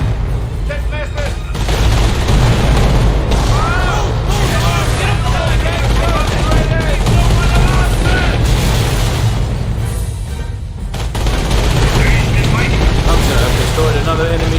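Dense, continuous battle noise from the Company of Heroes strategy game: repeated gunfire bursts and booming explosions fill the mix loudly, with soldier callout voices speaking over the combat.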